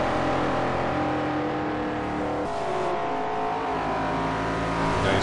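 2010 Chevrolet Camaro SS race cars accelerate on a banked oval, engines loud and close with a rising pitch and a sharp shift in tone midway as the pack roars past.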